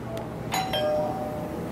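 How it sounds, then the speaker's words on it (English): A doorbell rings twice in a home on college move-in day, two quick bright chimes near the middle that carry over a low room hum with no talking. "We have a doorbell?"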